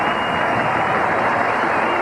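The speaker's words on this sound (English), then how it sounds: "Now let's hear the crowd cheer." A crowd at a 1985 Eagles vs. Vikings football game cheers loudly and steadily, a dense roar of applause and voices that fills the whole moment without a break.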